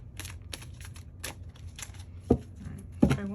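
Oversized tarot cards shuffled overhand by hand, giving a run of soft, papery flicks and riffles with two sharper slaps near the end, close and fairly quiet with no voices.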